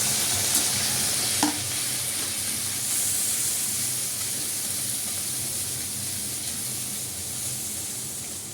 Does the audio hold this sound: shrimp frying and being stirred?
yes